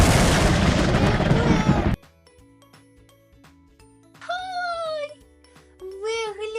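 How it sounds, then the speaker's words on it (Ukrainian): A cartoon-style cat in a children's egg-opening show gives two short rising meows near the end, following a loud burst of noise and a quiet musical stretch. "Та ви тільки гляньте, яка ж ця киця мила."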